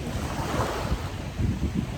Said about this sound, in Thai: แต่ลมพัด